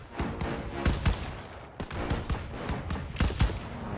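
Gunfire in a sniper fight in the Call of Duty WWII game, with rapid bursts and single loud shots cracking in an irregular rhythm among distant booms, close and continuous.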